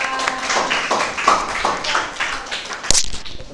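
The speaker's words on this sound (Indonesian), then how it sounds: "Tepuk tangan untuk kelompok 3." A small group claps after a classroom group presentation, a handful of sharp, distinct hand claps in a loose, uneven rhythm, close and fairly loud in a room.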